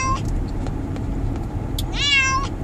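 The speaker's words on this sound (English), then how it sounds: "meow, meow, meow, meow, meow, meow" A cat at the vet lets out two clear, plaintive meows, one short at the start and a longer drawn-out one near the end, over a low background rumble.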